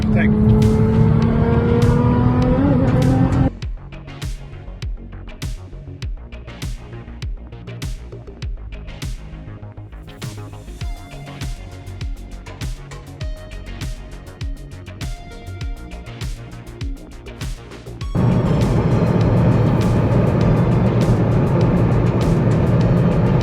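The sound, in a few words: 925bhp tuned GTR car overtaking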